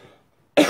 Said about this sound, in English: you cough to try and clear your lungs